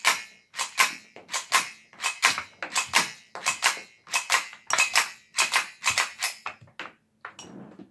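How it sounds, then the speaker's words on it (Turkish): Retay G17 blank pistol firing a long run of sharp, close, loud shots in quick succession, each a bright crack with short gaps, ending in a few scattered shots. "Biraz da mermi atalım şöyle"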